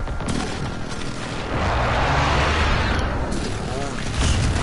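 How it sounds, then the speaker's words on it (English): Airstrike explosions in Modern Warfare, a heavy rolling roar of booms and rumbling blasts that swells and stays loud, with faint voices mixed in. "Airstrike."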